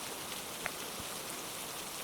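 Steady rain at night, a soft continuous hiss of drops falling on surfaces, fairly faint and even throughout, with a couple of small knocks.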